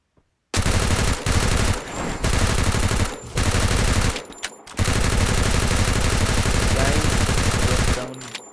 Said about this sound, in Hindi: पूरा गन साउंड बदल चुका है।